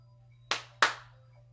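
Two sharp, close hand claps about a third of a second apart, each decaying quickly over a steady low hum.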